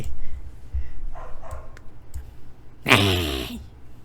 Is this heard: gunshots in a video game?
no